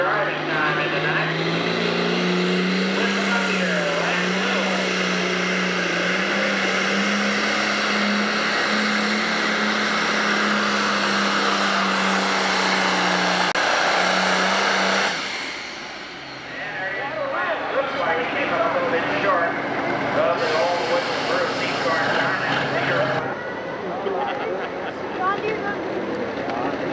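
Tractor pulling engine at a 1997 Salem, Illinois tractor pull in the 10,000 and 12,000 lb classes, a loud sustained roar with a steady low drone for about fifteen seconds, then a drop and a fainter rumble as crowd noise and announcer talk continue.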